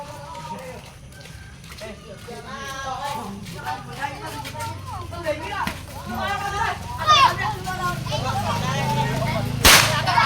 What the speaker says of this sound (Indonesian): ada yang meledakkan mercon di depan kita